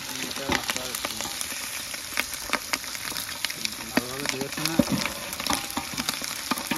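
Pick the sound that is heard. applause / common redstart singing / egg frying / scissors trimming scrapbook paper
egg frying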